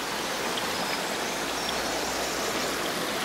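Stream flowing near a camp, a steady close rush and babble of water that stays even and continuous throughout with no speech.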